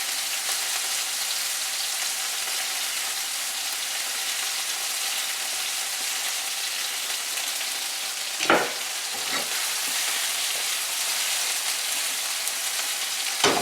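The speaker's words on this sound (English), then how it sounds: "Cooking up beautifully there. Bok choy is starting to wilt a little bit." Bok choy and tomato sizzle in a hot pan with stir-fry sauce, a steady hissing fry that continues throughout, with a couple of brief stirring clatters near the end and no talking.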